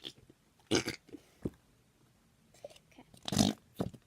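Whoopie-goo slime squeezed in the hands makes short wet fart-like squelches, several brief bursts spaced irregularly, close and fairly quiet.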